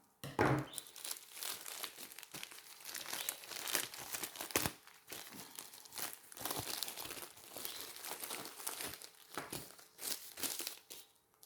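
Thin plastic pouch from a Temu parcel being handled and torn open, with continuous close crinkling and crackling in irregular bursts for several seconds, no voices.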